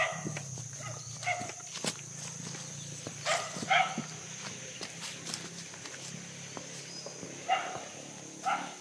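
A dog barks several times in short bursts, a few sharp yaps spaced apart at moderate distance over a quiet outdoor background with faint scuffing.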